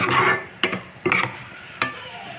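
Dried shrimp frying in a pan, a soft crackling sizzle stirred with a utensil, with three or four distinct scraping strokes standing out close by.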